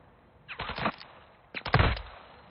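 Video game gunfire in two loud, close bursts of rapid automatic shots, each about half a second long, separated by a short pause.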